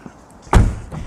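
A Citroën C6 car door with laminated side windows slams shut once, a heavy close thud that rings briefly and fades, followed by a faint second knock.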